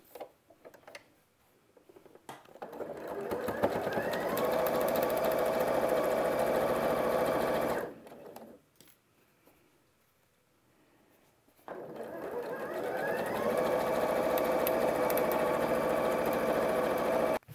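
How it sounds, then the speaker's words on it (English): A sewing machine stitches a quarter-inch seam on curved quilt block pieces, running in a fast, even ticking whir for several seconds, stopping for a quiet pause, then starting up again, close and clear. "now I'll just take it to the machine and 1/4 inch seam"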